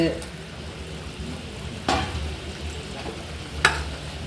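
Anchovies go into a pot of fish curry, giving a steady low bubbling sizzle with a couple of sharp scrapes or splashes as they are stirred in, close and fairly loud.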